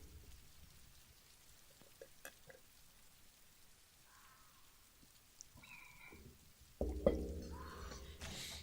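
Soft rain ambience in the video game Ardenfall, a faint steady patter with scattered drips and small clicks, growing louder near the end.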